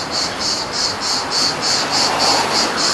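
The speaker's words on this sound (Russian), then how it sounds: "Ну, цикады как поют" Cicadas chirring on an evening seaside street in Lazarevskoye, a loud steady buzzing pulsing in regular bursts about five times a second over a constant hiss, with no talk.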